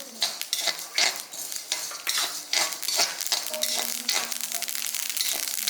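White sesame seeds and asafoetida fry in a pan for tamarind rice, with steady sizzling crackle and repeated scraping and stirring of a utensil against the metal, close and alone with no talk.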